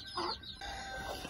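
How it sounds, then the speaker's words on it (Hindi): An Aseel hen clucks close by in a poultry coop while sitting to lay an egg, giving a short run of throaty, rising clucks with no talk. "यहाँ पे असील मुर्गी भी बैठी हुई है, अंडा दे रही है।"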